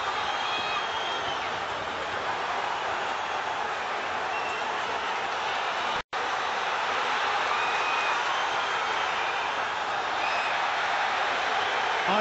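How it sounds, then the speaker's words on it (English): Arena crowd at the Nathan Cleverly vs Tony Bellew boxing fight roaring and applauding through an exchange of punches, a dense continuous wall of noise with broadcast commentary speech above it and a brief cut midway. "listen to the reaction of the crowd."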